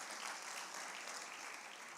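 Audience applause at a Republic Day kavi sammelan poetry recital at Lal Qila, a steady, dense wash of clapping from a large crowd lasting the whole two seconds, fairly faint and with no talking over it.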